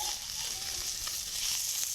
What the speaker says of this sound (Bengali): পনিরটা একটু ভাজা নেব